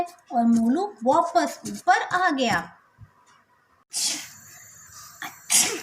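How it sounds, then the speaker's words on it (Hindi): A child character in an animated Hindi story for preschoolers gives one short sharp sneeze, and a second burst of noise follows soon after. Narration is heard just before. "मोलू ने छींक मारी।"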